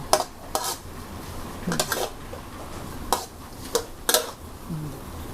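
A spoon scoops cooked coriander and egg from a pan, making about six sharp metallic clinks and scrapes at uneven intervals, up close with no talking.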